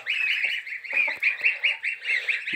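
A small flock of five farm geese honks continuously at close range, overlapping loud calls in a busy rhythmic stream with no talking.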